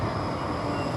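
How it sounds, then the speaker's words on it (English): A quiet electric train rolling along a city street, a soft steady rumble and hiss without any horn, continuous and fairly close for about a second. "Hear how silent that train is."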